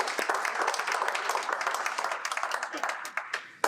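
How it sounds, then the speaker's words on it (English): Audience applause at a ribbon cutting for a 2020 renovation, greeting a state senator or representative; brisk, continuous clapping at moderate distance, with voices mixed in underneath. "Round of applause, please."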